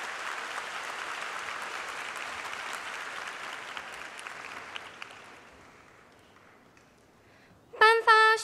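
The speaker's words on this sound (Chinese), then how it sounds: "让我们以最热烈的掌声谢谢施董事长。" Audience at a university graduation ceremony applauding in a large hall, a broad wash of many hands that holds steady and then slowly fades out, followed by a brief burst of a tonal chime or music at the end.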